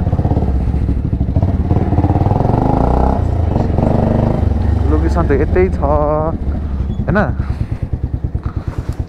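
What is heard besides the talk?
motorcycle engine and rattling while riding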